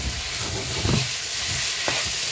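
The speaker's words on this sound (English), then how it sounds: "And that is sizzling away nicely." Chicken, onion, peppers and garlic sizzling steadily in a frying pan, a bright continuous crackle with a few soft stirring knocks, heard alone.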